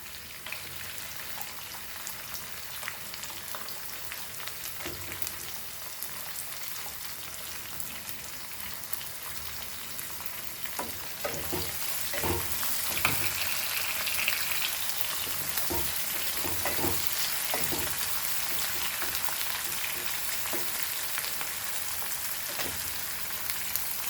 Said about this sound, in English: Now we'll add our onion into this. High flame.